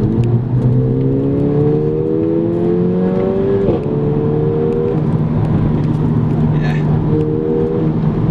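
Mercedes-Benz A45 AMG in race mode with manual shifting of its seven-speed twin-clutch gearbox, loud and close from inside the car, engine note climbing through repeated upshifts, each rise broken by a quick shift.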